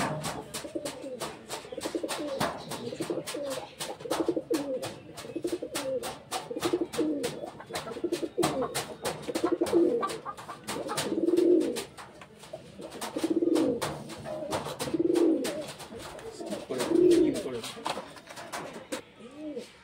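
Pigeons of Andhra breed coo repeatedly in a loft, their soft throaty calls swelling in rhythmic bursts close by, with faint clicks and rustles in between.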